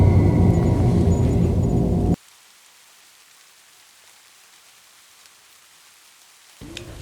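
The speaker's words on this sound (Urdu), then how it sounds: "ابھی بارش ختم نہیں ہوئی تھی اور آسمانی بجلی کی آوازیں آ رہی تھیں۔" Rain with thunder from an animated horror film's sound effects pours loudly for about two seconds, then cuts abruptly to near silence before the rain fades back in at the end.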